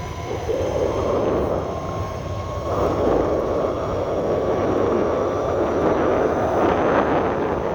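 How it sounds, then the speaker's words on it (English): Steady broadband roar of electric motors cruising at half throttle, likely on a fast-moving ride, with wind rush and a faint whine holding constant throughout, loud and close, no speech. "Just cruising at half throttle. These motors are plenty."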